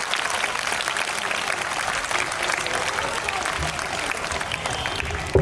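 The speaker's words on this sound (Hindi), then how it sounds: "सब जोरदार तालियों से उनका स्वागत करिए।" A large audience at a school annual function gives a guest loud, dense applause. The clapping stays sustained and even throughout, blending into a continuous roar.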